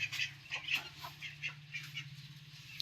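A duck gives a run of soft, rapid quacks, fairly faint and a little distant, over a low steady hum with no talking.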